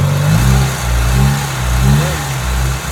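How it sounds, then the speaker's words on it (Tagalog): Mitsubishi Lancer engine revving in a workshop with its air-conditioning running, the rpm rising and falling in repeated low, loud surges close to the car. "i-rev natin yung makina"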